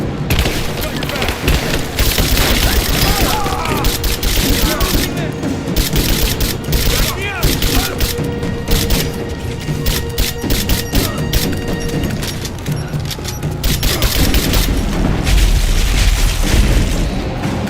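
Sustained combat gunfire in Rise of the Tomb Raider, with loud rapid bursts and heavy booms running continuously under shouted voices.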